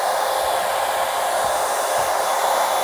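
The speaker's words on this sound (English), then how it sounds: "Go ahead and turn the hair dryer on low fan" A hair dryer on its low fan setting, drawing power from an EcoFlow RIVER Pro portable power station, blows a steady, even airy whoosh close by with no change throughout.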